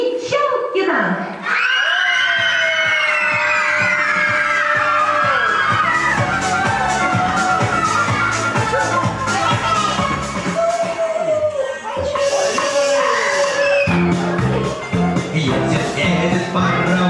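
Young children shout loudly and in chorus at a kindergarten New Year party, rising and falling voices over a lively crowd, with an adult voice mixed in.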